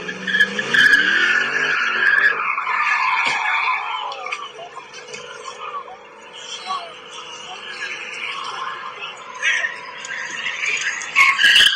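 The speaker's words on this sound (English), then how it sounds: "he was doing a burnout as he was leaving" A three-valve Ford Mustang doing a burnout as it pulls away, loud tire squeal and skidding over a revving engine that wavers and fades a little before surging again, heard from outside at moderate distance.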